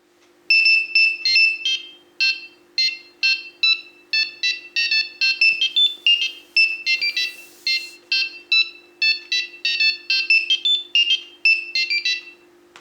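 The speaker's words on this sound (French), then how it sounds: "la sonnerie de Mario que vous allez pouvoir découvrir tout de suite en vidéo." Mario ringtone played by a RoboBox robot, a bright electronic melody of quick beeping notes repeating over about twelve seconds, loud and alone with a faint steady hum beneath.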